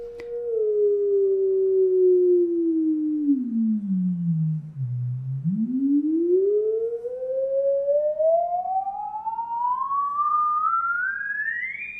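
A modular synthesizer oscillator produces a steady sine wave tone whose pitch glides smoothly down to a low hum and then sweeps steadily back up to a high whine, loud and alone.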